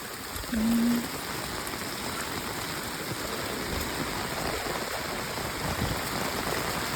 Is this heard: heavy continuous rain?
yes